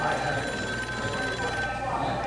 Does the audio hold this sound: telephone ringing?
yes